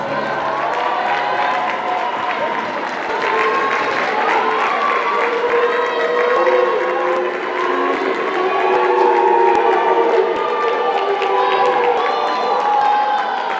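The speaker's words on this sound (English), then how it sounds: "Let's give them a round of applause." Sustained applause and cheering from a large crowd at a netball championship awards ceremony, steady and loud throughout with excited voices mixed in.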